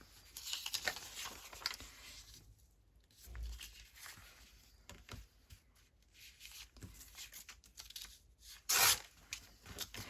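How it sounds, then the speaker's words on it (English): Paper pages are torn down by hand for a handstitched scrap booklet, giving several close, rasping rips with quieter handling between them and one sharp, loud tear near the end. "So tear your pages down."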